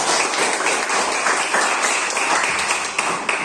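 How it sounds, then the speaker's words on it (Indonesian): Students in a classroom clap for a classmate named Erika, a busy, continuous patter of many hands that holds steady throughout. "Kasih tepuk tangan Erika"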